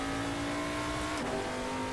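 In a sim racing game, a race car engine holds a steady, buzzing high-revving drone with a brief dip in pitch midway, constant and loud throughout.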